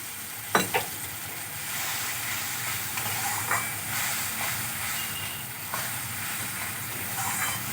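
Water is poured into mustard masala frying in a pan for Bengali bhola fish jhal, setting off a sharp splashy burst followed by a steady, close sizzle and hiss with a few softer pops.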